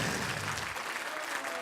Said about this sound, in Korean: 이때 박수 한번 쳐야 됩니다